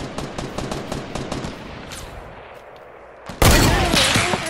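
Rapid bursts of gunfire in the Fortnite battle royale game, a quick run of loud shots over the first seconds, a lull, then a sudden louder blast of fire and noise near the end.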